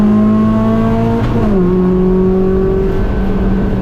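A race car accelerating hard on a track at NCM, a loud, close engine drone whose pitch climbs steadily, dips briefly at a shift, then rises again without a break.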